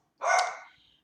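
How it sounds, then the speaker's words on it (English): A single short, sharp bark from a puppy rings out near and clear against otherwise quiet surroundings. "There he goes, my puppies."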